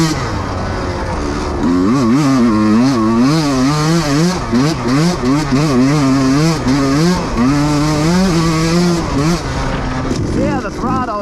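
A Husqvarna TE150i two-stroke dirt bike engine revs up and down under throttle, a loud, buzzy, wavering whine rising and falling repeatedly close by, with someone talking over it.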